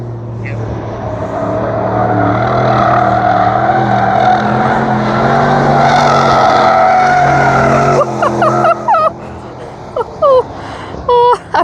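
An Audi car at an Audi F1 reveal event makes an all-wheel power slide. A loud, sustained engine roar gives way to a series of sharp tire chirps and squeals.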